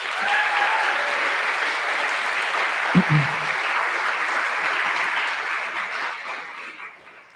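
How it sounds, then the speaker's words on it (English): An audience at a ballet academy graduation ceremony applauds steadily in a large hall, a dense wash of clapping that holds for several seconds and then gradually thins out. "We need to give them another round of applause."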